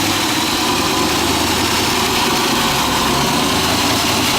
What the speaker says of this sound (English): This is the 345 horsepower LS1 engine.